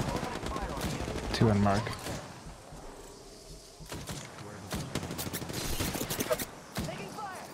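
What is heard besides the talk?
gunfire in Apex Legends video game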